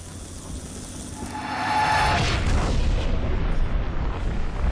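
A grenade blast in a low-budget Nazi movie set in Antarctica rolls out as a broad, rumbling boom after a brief quiet stretch, sustained and muffled, with no voices over it.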